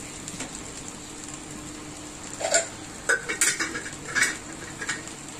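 A pot of fried rice lifted off a home stove: a handful of sharp metallic clanks and knocks in quick succession over a low kitchen background hiss.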